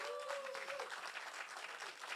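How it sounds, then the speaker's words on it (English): Continuous audience clapping at an awards night, a dense even patter of many hands with a faint call early on, heard at a moderate distance. "Please, can we double up on that applause?"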